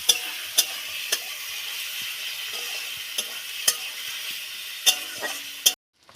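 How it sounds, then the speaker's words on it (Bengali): Onion frying in a pan, a steady close sizzle broken by sharp periodic clicks and scrapes of a spatula stirring, ending abruptly in silence, no voices. "পেঁয়াজটাকে ভালো করে ভেজে নেব।"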